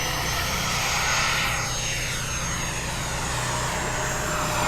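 A radio-controlled Pilatus PC21 model airplane's engine at takeoff throttle, a steady loud whine and rushing drone lasting throughout, with a faint pitch sweep as the plane passes.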